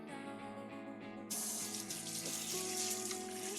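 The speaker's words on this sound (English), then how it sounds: "Alright, gonna wash my hands." Running tap water pours steadily into a sink as hands are washed, a close, continuous splashing hiss that swells louder partway through.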